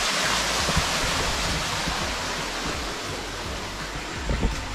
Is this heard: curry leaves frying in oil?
no